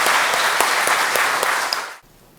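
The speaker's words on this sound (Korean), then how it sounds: "우리 뜨거운 박수로 격려해 주시기 바랍니다." A church congregation at an ordination service for elders, deaconesses and deacons claps warmly in a loud, dense burst of applause that stops abruptly near the end, leaving quiet room tone.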